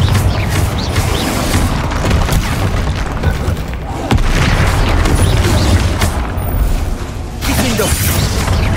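Confringo blasting spells explode in the Hogwarts Legacy video game, a loud near-continuous barrage of booming, crackling blasts and crashing debris that pounds on with only brief dips in intensity.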